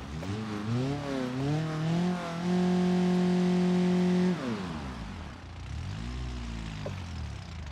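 A simulated car engine in the BeamNG.drive driving game, an old Tofaş Doğan on snowy village roads, revs up and down repeatedly, holding a loud steady pitch before dropping off and revving again.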